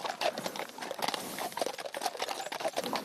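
Horse hooves patter in a rapid, steady clip-clop, dense and continuous at moderate volume against a bright hissing background.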